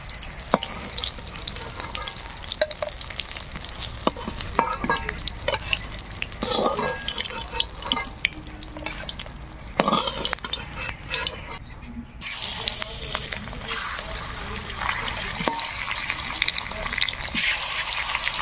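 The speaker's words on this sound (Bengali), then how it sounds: "বাকি মাছগুলো ভাজা হতে থাক" Pieces of rohu fish frying in hot oil in a home kitchen, a steady crackling sizzle that runs throughout with occasional clinks and splashy bursts, close and moderately loud, with no talking.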